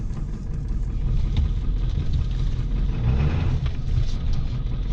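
A 1996 pickup truck with a 7.3 Powerstroke diesel engine is driving, giving a steady low engine rumble with road noise that holds at an even level throughout.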